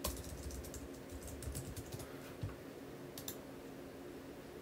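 Someone types a search into Google on a computer keyboard, soft rapid clicks in short bursts over a steady background hum, quiet and close, with no one speaking.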